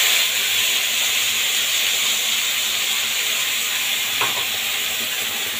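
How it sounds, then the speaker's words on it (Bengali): Cumin seeds and a ground spice paste fry in a hot wok, making a loud, unbroken broadband hiss and sizzle. A single faint clink comes through near the end. "সবার প্রথমে কড়াইতে সাদা জিরে ফোড়ন দিয়ে দেবো, তারপর দিয়ে দেবো বেটে রাখা পেস্টটা"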